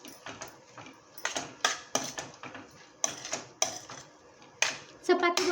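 Spinach added to a pan of sautéed spices for palak paneer bhurji and stirred, a series of sharp spatula scrapes and clinks against the pan, close and intermittent, with someone speaking softly between strokes.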